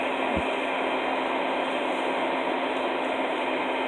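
A vacuum cleaner sucking out a baldfaced hornet nest roars with a steady, loud whooshing drone and a constant high whine, running continuously without talk.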